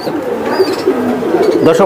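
Club pigeons for sale coo close by in soft, throaty repeated calls, several overlapping over a brief moment with faint background murmur.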